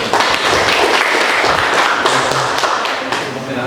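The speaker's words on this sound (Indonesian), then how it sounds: "Tepuk tangannya untuk kelompok 1." A classroom bursts into applause for the first student group, a dense, loud burst of many hands clapping that holds steady and then tapers slightly at the end.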